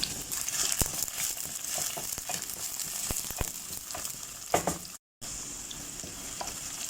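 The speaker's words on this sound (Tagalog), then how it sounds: "Igasin natin ng onion at saka garlic." Onion and garlic sautéing in hot oil in a pan, with a steady frying sizzle and repeated stirring scrapes and clicks, a brief dropout near the end, no talk.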